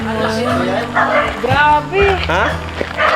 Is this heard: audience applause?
no